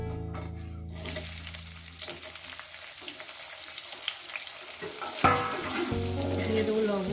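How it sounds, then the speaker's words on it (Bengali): Potatoes and onions sizzle and fry in hot oil in a pan, a steady close crackle with occasional stirring clatter and a louder burst as more goes in, no talk. "দিয়ে এটাকে আমি ভাজবো 3-4 মিনিট ধরে।"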